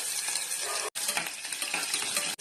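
Crushed garlic dropped into hot oil with fenugreek and mustard seeds, a loud, dense crackling sizzle up close that cuts out briefly twice, with no voices.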